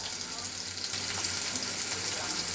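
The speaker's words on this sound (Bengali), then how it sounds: "এগুলো দিয়ে আমরা এগুলো কষাতে থাকি।" Onion, ginger, garlic and cumin paste sautés in a pan with a steady, close sizzle and hiss that holds evenly from start to finish, alone without any voice.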